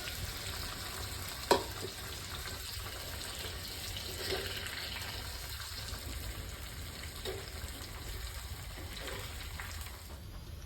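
Soybeans frying in a pan with a steady, fairly quiet sizzle throughout, broken by a few soft stirring knocks and one brief clack near the start.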